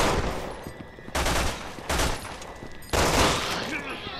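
Rapid bursts of gunfire from the video game Resident Evil 6, loud sustained volleys broken into several clusters with brief pauses, dense and close, with no speech.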